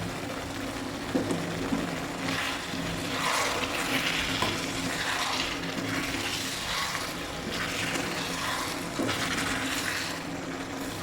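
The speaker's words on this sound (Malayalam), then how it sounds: "കുറച്ച് വെള്ളം കൂടെ ഒഴിച്ചു കൊടുക്കുക" Water pours and bubbles into a hot pan of potato masala with a steady hissing simmer, continuous and close, no voices.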